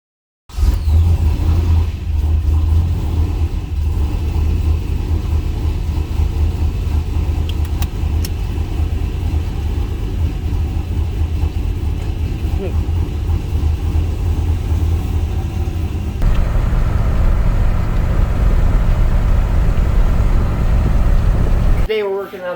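A turbocharged 2005 6-liter 2500 truck engine with an NV4500 transmission runs loud and close, a steady heavy drone that rises in intensity partway through before cutting off.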